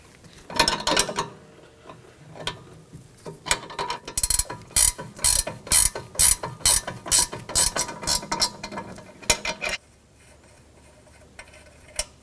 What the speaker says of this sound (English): Using a 5mm hex and a 17mm wrench, we're going to remove the sway bar link out of the knuckle.